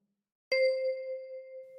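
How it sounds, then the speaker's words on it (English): A single key on a 10-key kalimba is plucked with the left thumb, giving one bright, bell-like metallic tone that rings out clearly and decays slowly over more than a second, heard alone. "With your left thumb, pluck number 1."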